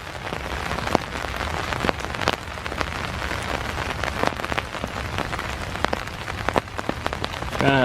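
Rain patters steadily on an umbrella and the ground on a foggy morning at Iroquois Park, with dense close drops and occasional sharper taps throughout.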